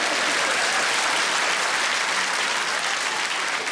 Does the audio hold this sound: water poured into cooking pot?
no